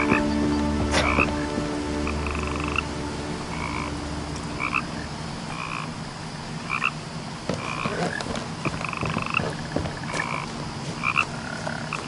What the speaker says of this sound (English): I hear frogs, but I don't see any.